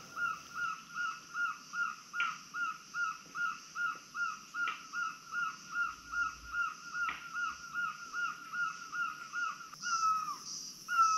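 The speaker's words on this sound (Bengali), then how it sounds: "কত নাম না জানা পাখিদের ডাক শুনতে পাচ্ছি।" Birds call repeatedly along a stone path through a mountain forest of tall trees on a Himalayan trek, a steady rhythmic series of cawing, crow-like calls at moderate distance, unbroken for the whole stretch, with a brighter call near the end.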